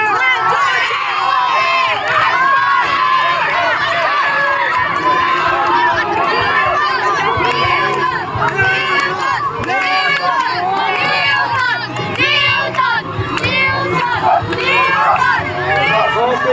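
Students at a school's annual sports day shout and cheer loudly and continuously during a race on the ground, a dense babble of excited young voices with bursts of yelling.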